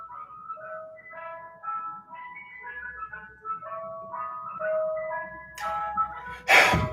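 An ice cream truck jingle playing outside, a tinkly melody of repeating notes at moderate distance, with a brief burst of noise near the end.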